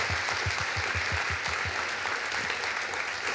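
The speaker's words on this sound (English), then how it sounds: "Let's give them a big round of applause." Audience applause at an interior design chapter awards ceremony, a steady wash of clapping with a few distinct low thumps early on, fairly close and continuous.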